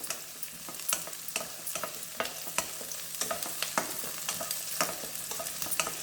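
Appalam gravy being sautéed and stirred in oil in a pan gives a continuous close sizzle. Frequent sharp clicks and scrapes from the stirring utensil run through it, with no voices.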